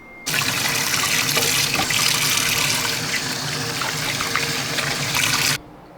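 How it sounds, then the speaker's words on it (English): Cold tap water runs steadily as sucker fish are rinsed under the faucet, a loud continuous splashing gush that starts and stops abruptly, with no voices. "Rinse them in cold water"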